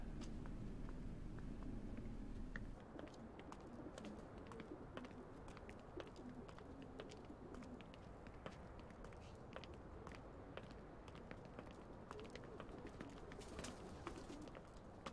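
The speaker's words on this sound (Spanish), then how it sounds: "¡Ah, pájaros!" Pigeons or doves coo outdoors in a low, repeated murmur, joined by scattered footsteps and light rustling, with no voices for about fifteen seconds.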